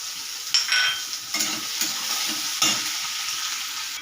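Sliced onions with turmeric and salt sizzle in a hot pan, with a spatula scraping and stirring in repeated strokes over a constant frying hiss.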